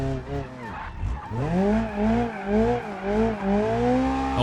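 Tires squeal and skid continuously as a school bus drifts in BeamNG, the pitch wavering over a steady engine drone, loud and up close.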